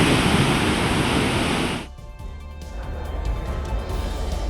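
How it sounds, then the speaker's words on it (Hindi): Floodwater pours over the path of a bridge joining two villages, a loud, dense rushing roar that drops abruptly after about two seconds to a quieter, rougher wash of flowing water. "2 गांव को जोड़ने वाले पुल के रास्ते पर अब पानी बह रहा है"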